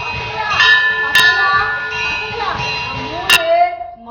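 A temple bell rings out at the start of a Mariyatha temple festival, its steady metallic hum lingering throughout with a couple of sharp struck accents, while people talk nearby.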